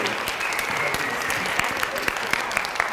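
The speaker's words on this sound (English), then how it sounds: "let's give them a round of applause" A school ceremony audience gives students a round of applause: dense, steady clapping close by with a few sharper individual claps standing out.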